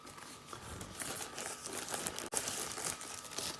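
Crinkly rustling of a thin envelope-style wrapper as an Anker Soundcore 2 Bluetooth speaker is unwrapped, steady close-up crackling for a few seconds with one brief pause, no voices.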